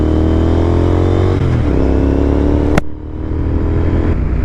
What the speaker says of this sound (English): we'll give you a little exhaust taste